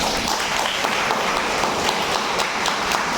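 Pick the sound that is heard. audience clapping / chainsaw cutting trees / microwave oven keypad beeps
audience clapping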